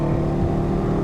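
A motorcycle fitted with a Black Widow exhaust revs hard under load, a loud, steady engine drone with a strong low harmonic hum that holds throughout, close by and without talk.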